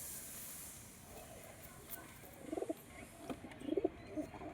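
A male pigeon coos softly in two short bursts of low, throaty calls over faint background hiss, the birds sounding close but quiet.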